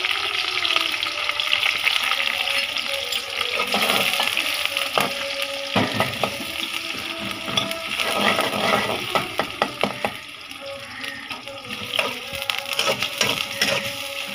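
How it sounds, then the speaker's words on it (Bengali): Chopped onions and green chilies sizzle and crackle in hot oil in a pan, the start of a Bangladeshi bitter gourd fry, with steady loud frying hiss and scattered sharp pops and stirring scrapes throughout. "তিত করলা ভাজি করব এখন। পেঁয়াজ আর কাঁচামরিচ দিয়ে দিলাম।"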